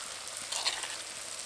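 Ginger garlic paste sizzling as it hits frying onions, tomato and meat in a pan for a Bengali meal, a steady close hiss of frying, brief and even, with no talking.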